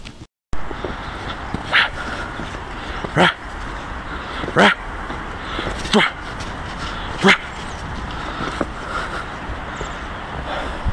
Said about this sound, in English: Here's a clip of my dog fighting in snow.